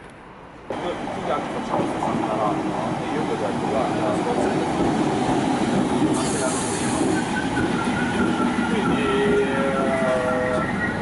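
A Greater Anglia train rumbles past close by in London, loud and continuous, with rattling wheels and high-pitched squeals of metal on rail toward the end.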